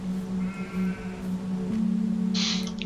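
Sheep in the Farming Simulator 22 video game give a few drawn-out, nasal bleats, one after another at close range over a steady low in-game hum, with no talking.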